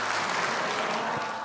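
An audience at an evening evangelist training session in a church applauds in a brief, dense burst of many hands clapping, steady and fairly loud throughout.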